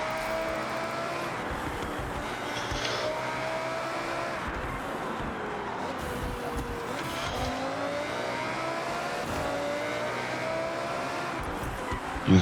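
A BMW X5M engine in Forza Horizon revs and roars continuously, rising and easing as the throttle lifts for turns, with occasional tire squeal, moderately quiet and without talking.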